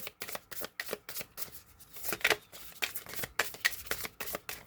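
Flower oracle cards being shuffled and pulled from an embossed deck, a close, steady run of quick papery riffles and flicks with no voices.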